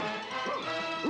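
A dog barking in an Italian cartoon episode, a couple of quick, close, fairly loud yaps in a lively scene.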